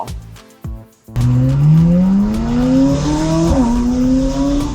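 A McLaren 570S Spider sports car pulls away hard after a brief pause, its engine note rising steadily and loudly through the revs with a short shift-like dip midway, heard close up.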